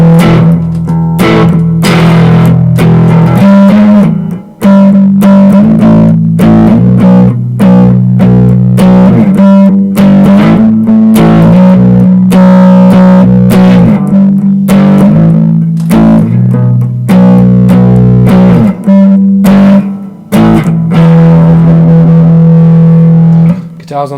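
Distorted electric guitar through a Blackstar HT-5 overdriven valve amplifier plays loud, continuous chugging chords and riffs with a thick, saturated tone, steady rhythm throughout, no voices.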